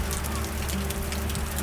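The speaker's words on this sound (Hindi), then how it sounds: "अभी यहाँ पे बारिश हो रही है" Rain falls steadily on surfaces in a Himalayan village in the Uttarkashi hills, a close, even hiss of patter with no break.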